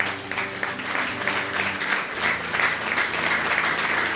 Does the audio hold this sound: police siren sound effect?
no